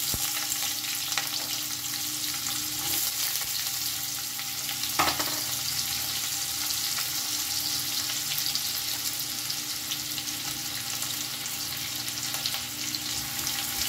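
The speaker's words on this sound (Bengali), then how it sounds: "ভালো করে পেঁয়াজটা ভেজে দেব।" Chopped onions fry in hot oil for making yakhni pulao, with a steady, dense sizzle running unbroken throughout, close and even, plus an occasional faint clink of stirring.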